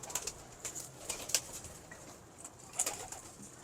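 Pigeons make soft, quiet calls in short scattered bursts, with faint background noise and no talking.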